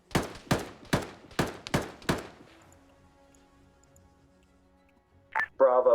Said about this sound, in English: You can hear the mortars from here.